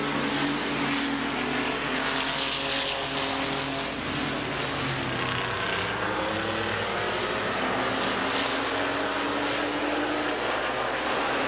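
Race trucks roar around the Midvale speedway oval in a fall classic event, a dense, continuous engine drone with shifting pitch as the pack passes, loud and steady throughout.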